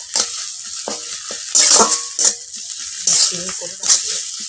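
Onion and black mustard paste fry in a pan, with sizzling broken by sharp clinks of a spoon stirring against the metal, someone speaking at times over the cooking.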